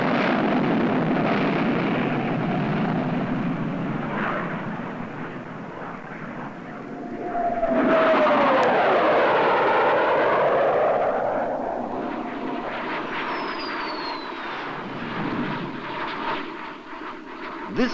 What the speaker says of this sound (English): Attention, le Jaguar va maintenant être catapulté.